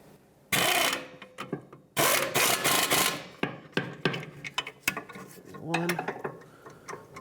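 A wrench tightens the rear strut assembly bolts on a 1997-2001 Lexus ES300, torqued to 34 foot-pounds: close bursts of rapid ratcheting clicks and metallic scraping come in several separate runs with short pauses between them.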